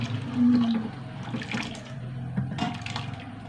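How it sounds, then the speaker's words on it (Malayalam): A short burst of water pouring into a pot of sambar, splashing briefly and then settling into a quieter rush; no talking. "കുറച്ചുകൂടി വെള്ളം ഒഴിച്ചു കൊടുക്കാം"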